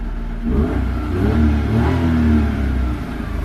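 Small Daewoo Matiz petrol engine revving up near the microphone, its idle sitting a little high; the pitch climbs and falls in a couple of steady throttle blips over a continuous mechanical hum, with no voices.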